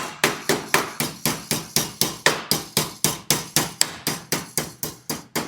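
A hammer strikes a steel floor pan from a '41 Merc against a solid buck, about twenty sharp ringing blows in a fast, even rhythm, loud and close.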